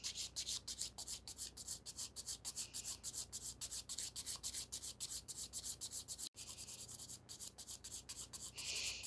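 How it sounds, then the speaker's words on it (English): A gel nail extension is filed smooth with a nail file: fast, steady back-and-forth rasping strokes, close and continuous, with one brief pause near the end and no talking. "Now we want to even out the surface of the nail, so I'm just filing all over."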